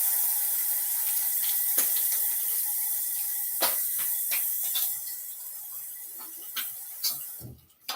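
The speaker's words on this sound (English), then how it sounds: "I'm going to rinse one more time." Tap water runs and splashes into a sink while a razor is rinsed, a soft steady hiss broken by clicks and taps against the basin, fading near the end.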